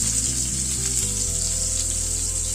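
Potatoes and carrot fry in a pan, giving off a steady, close sizzling hiss with faint stirring underneath. No voices.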